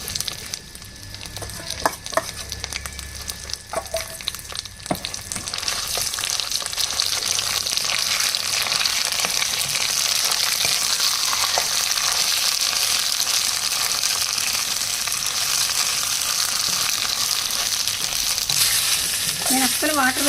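Coconut and coriander chutney hits a hot tempering seasoned with curry leaves and a pinch of turmeric, with light clinks at first, then a loud, steady close sizzle that holds throughout with no talking.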